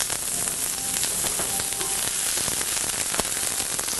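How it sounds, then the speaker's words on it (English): Vegetables stir-frying in a hot pan give a steady, dense sizzle that runs unbroken and fairly loud from start to finish, with faint scraping of stirring and no talking. "Probably only take about 3-4 minutes to stir fry all the vegetables."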